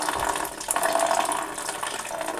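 Water from a toilet tank, released by loosening the fill valve nut, pours and splashes into a bowl held underneath, a steady close trickling rush without pause.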